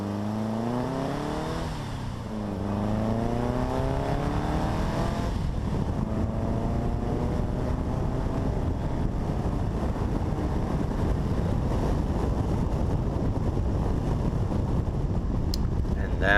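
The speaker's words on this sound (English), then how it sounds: "Come for a 0 to 60 test drive in this modified Beck Speedster." Modified Beck Speedster replica car accelerating hard from 0 to 60, engine note climbing through rising gear sweeps with a shift, then a sustained loud roar mixed with wind noise, heard from inside.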